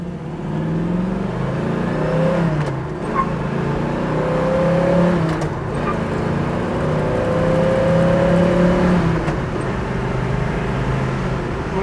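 A 1972 Chevrolet Nova drives and accelerates with a continuous engine drone. The engine rises in pitch through several gears and stays loud and close from inside the car, without talking.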